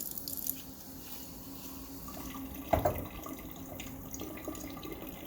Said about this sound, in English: I'm going to put a little bit of water for my sink to make this into a slurry.